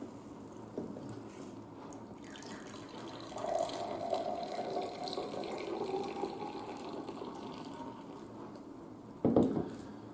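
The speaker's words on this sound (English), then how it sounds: "I've got 2 glasses and I'm going to fill them both with water." Water pours steadily into a glass with a soft, continuous trickle, the pitch shifting slightly as it fills, ending in a brief louder splash.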